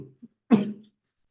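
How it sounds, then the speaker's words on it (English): A single sharp cough, close and fairly loud, preceded by a couple of faint short throat sounds, then silence. "Well, excuse the cough."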